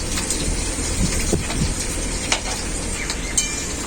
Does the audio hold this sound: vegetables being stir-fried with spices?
yes